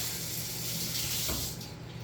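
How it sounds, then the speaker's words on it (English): Running tap water splashes steadily into a sink as fingers are rinsed off after handling pizza dough, a short, even wash of water with no talk. "I'm going to rinse off my fingers"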